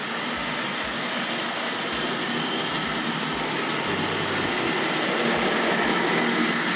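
A Tri-ang R.259 Britannia Class model locomotive running around a layout through a station, a steady close whirring hum with soft rhythmic clicks of wheels over rail joints.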